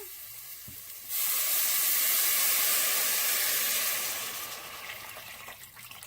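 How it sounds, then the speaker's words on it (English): Eight cups of water pour into a soup pot on the stove for Italian wedding soup, a loud, steady rushing hiss that starts abruptly, holds for a few seconds, then tapers off. "now we're going to add the 8 cups of water"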